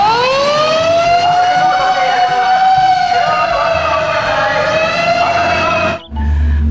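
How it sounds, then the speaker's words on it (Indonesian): A toy fire engine's siren wails loud and close in one long, slowly falling electronic tone, then cuts off abruptly near the end with a brief thump. "Yang ini ada mobil pemadam kebakaran."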